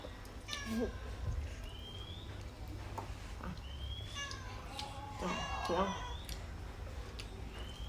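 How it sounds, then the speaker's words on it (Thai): A cat meows several times in a hot outdoor setting, with rising and falling cries scattered through the clip and some overlapping chirpy calls and background noise. "แมวเหมียวมาอีกแล้ว"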